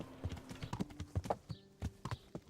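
Horse hooves in the video game Kingdom Come: Deliverance, a quiet, moderately close clip-clop with irregular walking hoofbeats, no talk over it.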